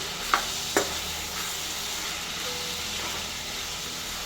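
Turmeric powder frying in a pan with country chicken for a village-style curry, a steady soft sizzle with two brief spoon scrapes near the start, then continuous hiss and no talk.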